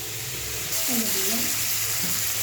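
Salted water lily stems frying lightly in a pan, a steady, bright sizzle that swells slightly partway through, with a brief faint voice-like tone under it.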